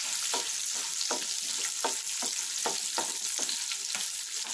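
Curry leaves and spices fry in hot oil in a pan for jeera rice, giving a constant loud sizzle with regular scraping stirs about twice a second, heard up close without talking.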